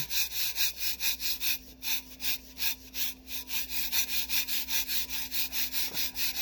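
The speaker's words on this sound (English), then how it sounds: "what I'm doing is I'm just burnishing it" Repeated rhythmic rubbing strokes of burnishing Tack It onto a tumbler, brisk back-and-forth scrapes about twice per second, close and fairly quiet, with a faint steady background hum and no talking.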